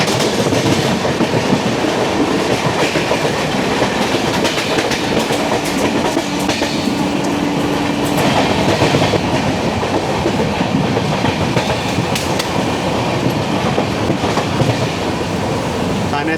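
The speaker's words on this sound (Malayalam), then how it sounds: "ഥാനെ സ്റ്റേഷൻ്റെ പ്ലാറ്റ്ഫോം നമ്പർ 8 കൂടെ റൺ ത്രൂ ആണ്." The 12224 Duronto Express runs through Thane station on platform 8, a loud continuous rumble with clickety-clack of wheels over rail joints, heard from inside the moving train.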